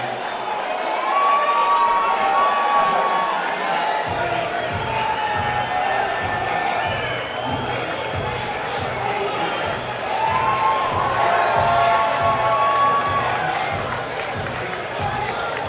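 Loud crowd cheering and shouting fills an MMA fight venue as Houston fighter Will Morris is introduced, sustained roars with whistles and a steady rhythmic pulse running underneath.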